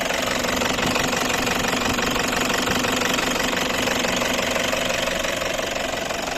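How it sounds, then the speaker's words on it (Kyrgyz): A 2013 Toyota Land Cruiser Prado with a 3-litre turbo diesel idles up close, its steady, loud diesel clatter and knock running continuously with no pauses. "Мынакей, учурда от алып турат. 3-литровый турбо дизель."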